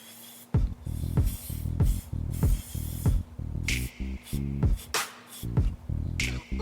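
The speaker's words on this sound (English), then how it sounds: "Spray the strand." Repeated short hiss bursts from a spray bottle misting a strand of braiding hair, a series of close, quick sprays in an uneven rhythm over a steady background hum.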